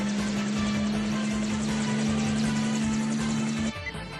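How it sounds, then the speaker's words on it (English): A hijacked helicopter flies in an anime scene, its loud, steady rotor drone and engine whine running continuously before cutting off abruptly near the end. "the helicopter's just been hijacked"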